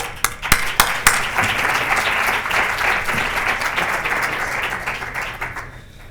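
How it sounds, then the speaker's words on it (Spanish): An audience at an ethics-in-journalism seminar breaks into applause: a few sharp early claps swell into a full, dense round that gradually tapers off. "le damos un aplauso"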